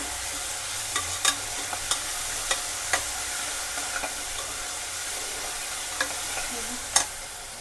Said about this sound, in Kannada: ನಾನು ಅದನ್ನ ಸ್ವಲ್ಪ ಹಸಿ ವಾಸನೆ ಹೋಗೋ ತನಕ ಅದನ್ನು ಫ್ರೈ ಮಾಡ್ಕೋಬೇಕು